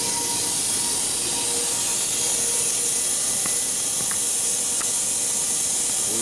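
Compressed air blows into motorcycle gas tanks being de-rusted, a loud continuous hiss close by that holds steady for the whole stretch, with faint clicks under it.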